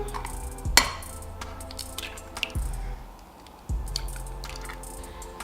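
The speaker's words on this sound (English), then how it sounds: "we're gonna beat 3 eggs, so you're just gonna crack the eggs open" Eggs are cracked open for keto brownies: three sharp cracks with wet squishes and drips follow one another closely, nearby and fairly loud, with no talking.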